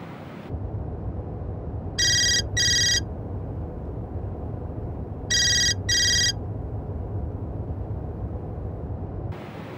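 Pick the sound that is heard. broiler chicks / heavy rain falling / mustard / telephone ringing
telephone ringing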